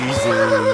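A short, close horse whinny from the video game Kingdom Come: Deliverance II rings out, high and wavering, lasting under a second.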